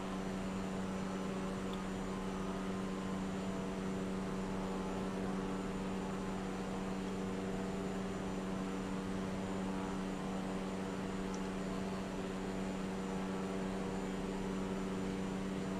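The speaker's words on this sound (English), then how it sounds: "I do have to lose a little bit of altitude before I come in for landing" A steady, even engine drone from an aircraft in a flight video game as it descends toward a landing, a constant tonal hum with a faint hiss, unchanging throughout and without any talk.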